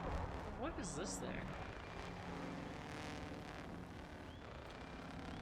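Two dragon engines power a vehicle in a video game, giving a steady, broad roaring rumble that holds throughout at moderate loudness, with a brief voice-like sound near the start.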